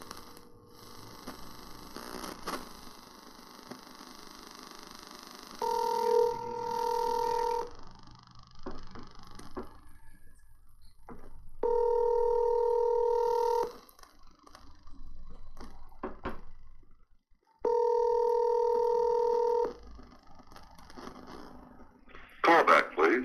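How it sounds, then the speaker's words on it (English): Telephone ringback heard while a call is placed, three loud steady tone bursts of about two seconds each repeating at regular intervals, with quieter background noise between them. "We're going to call the great Joe Goossen"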